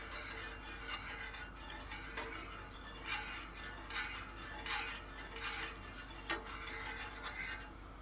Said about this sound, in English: we'll stir that around a little bit and just get that nice and dissolved in there